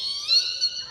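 A human voice imitates a very squeaky door creaking open, producing a thin, high, wavering squeal that swells slightly twice in under a second, close and clear with no other sound.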